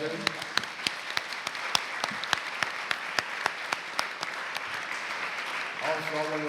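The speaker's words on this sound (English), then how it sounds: "let's give a round of applause to these volunteers" Sparse, distinct hand claps from a small audience at a community panel event, individual sharp claps spaced irregularly at moderate loudness.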